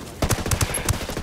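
Gunfire in a first-person shooter game, a quick series of about five or six close, sharp shots in a rapid uneven rhythm.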